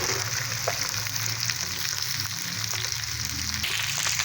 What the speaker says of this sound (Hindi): जी, इनको हमने बस हल्का सा फ्राई करना है, ज़्यादा डार्क फ्राई नहीं करना